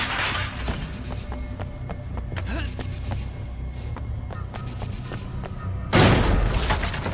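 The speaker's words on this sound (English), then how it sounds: "Assault rifle." Assault rifle fire in the action game Sleeping Dogs: sharp cracks and booms scattered irregularly over a rumbling background, with a loud burst near the end.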